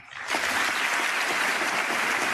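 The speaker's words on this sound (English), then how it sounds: "And they're all applauding." Sudden loud applause from a large political speech audience, bursting in after a quiet instant and holding as a dense, steady roar of clapping.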